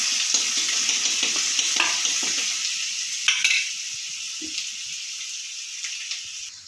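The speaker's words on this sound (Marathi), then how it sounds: "आता हा लसूण हलकासा परतून घ्यायचा" Crushed garlic cloves sautéing in oil with cumin and asafoetida for a peanut amti, a loud sizzle that gradually softens, punctuated by spoon scrapes and clinks against the pan.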